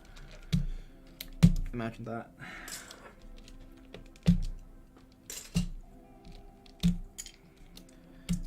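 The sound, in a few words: dismantling a computer keyboard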